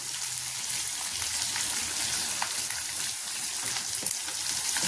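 Turmeric and chillies sizzle in hot oil for onion lemon rice, a steady dense frying hiss throughout with faint crackles, close and even, with no talk.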